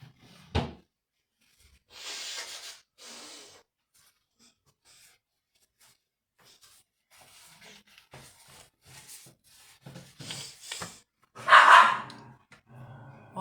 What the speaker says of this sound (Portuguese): Oi, cães, cala.